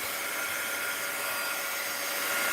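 A heat gun blows hot air over a mixed media art journal page, a steady close whooshing roar that holds at an even level throughout with no other sounds.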